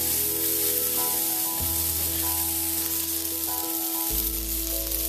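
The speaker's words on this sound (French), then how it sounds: "Pendant ce temps-là, on continue à caraméliser nos oignons" Onions caramelizing in a frying pan give a steady, dense sizzle that runs unbroken from start to finish, with faint tonal sounds layered underneath.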